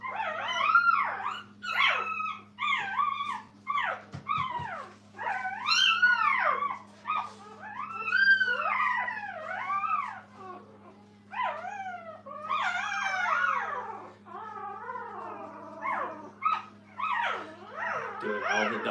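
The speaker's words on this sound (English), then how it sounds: "Doing all the dog noises, growling, fussing." A litter of young puppies at a kennel fusses on and on with whimpers, whines, yips and little howls, fairly close, over a faint steady hum.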